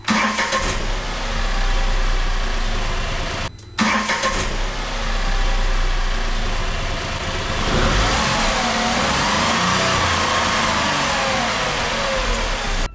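A Tata Tiago with four years and 50,000 km on it starts, then idles and revs steadily close by, its mid-pitched engine note rising and settling continuously, with a brief cut near the start.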